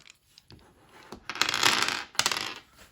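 Five elemental-themed dice from a luxury Nordic playing card set clatter out of a cloth bag in a few quick bursts of rattling and tumbling, close and fairly loud, with no voices.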